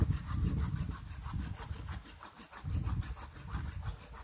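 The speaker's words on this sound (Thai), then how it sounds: "ครับอันแรกก็เลื่อยไปก่อนเลย" A handsaw cuts into a thick sweet bamboo branch for air layering, rhythmic back-and-forth rasping strokes, close and fairly quiet with no talk.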